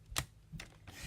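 Paper being trimmed for a handmade card, three short crisp snips or slices, quiet and close with brief pauses between them.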